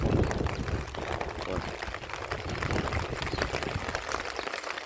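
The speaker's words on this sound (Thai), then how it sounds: "ฝนตกครับบรรยากาศฝนตกครับ" Rain falls steadily on a rural Thai home and a nearby canal, a dense continuous patter with drips and splashes at close range, unbroken by talk.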